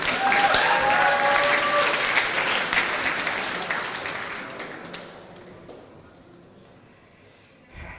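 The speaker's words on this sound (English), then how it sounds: "massive round of applause for Audrey." An audience at a student union election results announcement applauds loudly, with a brief cheer early on, then the clapping thins and fades over several seconds before a last small burst at the end.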